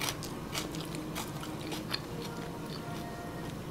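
Crisp fried chicken eaten with raw green onion gives a quiet run of repeated close crunching bites and chewing, with no talking.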